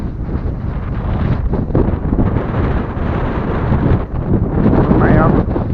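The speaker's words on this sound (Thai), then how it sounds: "พายุฤดูร้อนครับผมโอ้ลมแห้งครับ" Strong, dry summer storm wind buffets the microphone in open country in Maha Sarakham, Thailand, a loud, continuous broadband roar with gusts that surge and ease throughout.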